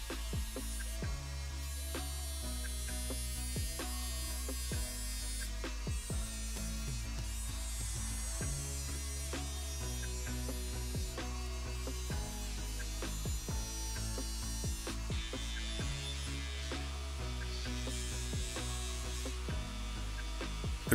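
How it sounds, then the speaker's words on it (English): A bench buffer whirs steadily and continuously while polishing an old axe head coated in epoxy resin, with a loud, even drone throughout. "I'm going to take it over to the buffer and give it a quick polish."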